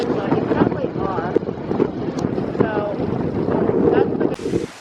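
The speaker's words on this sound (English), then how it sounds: "It's super windy, so I hope you're not hearing that wind, but you probably are." Strong gusting wind buffets a microphone outdoors, a loud continuous low rumble that swells and dips throughout, with voices faintly audible underneath.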